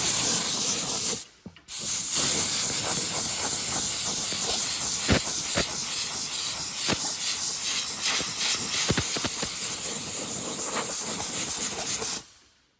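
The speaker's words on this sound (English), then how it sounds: "So got all the cat hair on it, so I gotta blow it off." A strong jet of air blowing cat hair off a chair makes a loud, continuous hiss close by, dropping out for a brief moment near the start and cutting off at the end.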